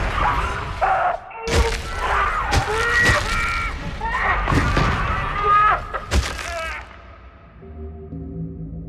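Springlock death of William Afton inside the Spring Bonnie suit from Five Nights at Freddy's: agonized screaming and groaning mixed with heavy thuds, crunches and clattering metal, loud and chaotic, fading to a low mechanical hum.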